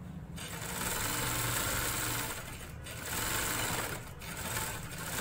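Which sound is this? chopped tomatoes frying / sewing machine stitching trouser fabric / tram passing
sewing machine stitching trouser fabric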